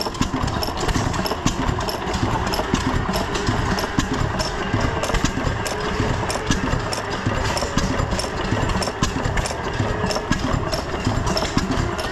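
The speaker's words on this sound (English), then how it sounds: "these are pretty sweet running engines, really." Antique gas engines, including International Mogul models, run steadily at an Indiana county fair engine display, a dense chugging and popping idle with rapid repeated firing beats throughout, loud and continuous with no talk.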